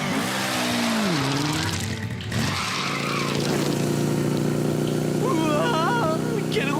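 A cartoon vehicle revs and screeches through a wheelie, engine tones sweeping up and down loudly under a bed of music, with a brief sliding whistle-like squeal near the end.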